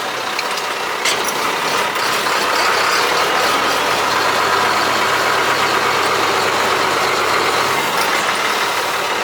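A Ford TW25 tractor fitted with an autosteer system drives and turns in a field, its diesel engine a loud, steady, close rumble with a rough knocking edge throughout, no talk.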